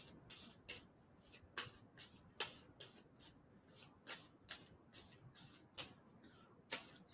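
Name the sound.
shuffling tarot cards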